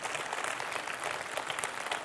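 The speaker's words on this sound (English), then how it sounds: "Can I ask you just a big applause for the Polish testing community?" A conference audience of testers claps in a steady, dense round of applause, heard at a moderate distance with no talking over it.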